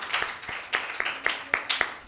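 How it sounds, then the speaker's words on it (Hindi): A group applauds a child named Alex at a Father's Day special gathering: quiet, rhythmic claps in quick even beats over about two seconds. "एलेक्स के लिए जोरदार तालियां"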